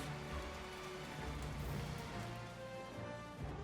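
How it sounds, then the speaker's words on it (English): Soft rain hiss in Age of Mythology: Retold runs steadily over a low droning background, quiet and unbroken, with no voices. "the rain sound is still there"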